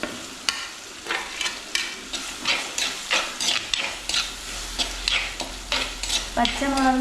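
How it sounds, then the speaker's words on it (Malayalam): Garlic, ginger and green chili sauté in a pan for a Kerala-style sardine curry: repeated close scrapes of a stirring spoon over a steady sizzle, rhythmic and fairly crisp. "വെളുത്തുള്ളി ഇടാം. പിന്നെ ഇഞ്ചി ഇട്ട് വഴറ്റിയതിന് ശേഷം പച്ചമുളക്,"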